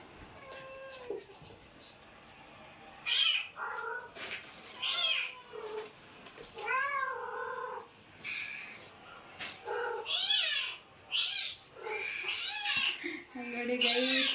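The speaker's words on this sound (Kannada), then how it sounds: "ಇವಾಗ ನನ್ನ ಫೋನಲ್ಲಿ ಕ್ಯಾಟ್ ಸೌಂಡ್ಸ್ ಹಾಕ್ತೀನಿ ಆಯಿತಾ" Cat meows played from a phone sound as repeated, drawn-out mewing and caterwauling calls, fairly faint and spaced irregularly, with soft background sounds between them.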